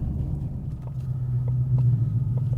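A 2018-2025 Mustang GT with a Flowmaster Scavenger exhaust, resonator delete and X-pipe drives along, giving a loud, deep, continuous rumble that swells slightly toward the end. No voices are heard.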